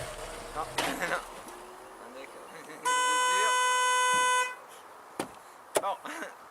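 A car horn with a stated fault blares in one steady, sustained blast of about a second and a half, loud and close, with voices talking before and after it.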